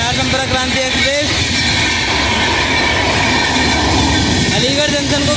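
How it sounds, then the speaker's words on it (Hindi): The Bihar Sampark Kranti Express, bound for Darbhanga, speeds through Aligarh Junction with a loud, continuous roar of rushing wagons, rattling wheels and faint squeals, heard close and steady throughout. "अलीगढ़ जंक्शन को क्रॉस करते हुए बहुत ही सुपरफास्ट स्पीड में।"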